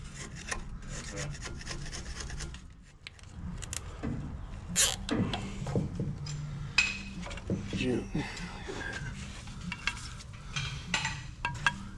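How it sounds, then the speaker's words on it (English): A tool scrapes grease off the metal underside of a Suburban in repeated rasping, grinding strokes, close and uneven, with intermittent knocks and voices nearby. "I'm gonna scrape all this grease off the bottom of this"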